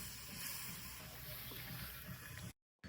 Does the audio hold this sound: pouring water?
yes